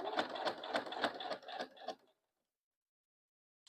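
A sewing machine stitching a cozy bowl rattles in quick rhythmic bursts for about two seconds of back stitching, then falls silent, with a faint click at the very end.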